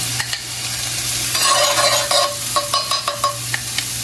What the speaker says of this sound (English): You're gonna saute the onions and garlic together